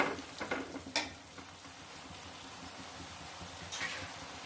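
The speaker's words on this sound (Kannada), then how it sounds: "ಚೆನ್ನಾಗಿ ಎಣ್ಣೆಲೆ ಟೊಮೆಟೊ, ಈರುಳ್ಳಿ, ಮೆಣಸಿನ್ಕಾಯಿ ಎಲ್ಲ ಚೆನ್ನಾಗಿ ಫ್ರೈ ಆಗಿಬಿಡುತ್ತೆ." Tomato, onion and green chilli fry steadily in hot oil, a soft continuous sizzle with a few spoon scrapes against the pan early on, close and fairly quiet.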